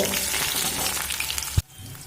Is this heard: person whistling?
no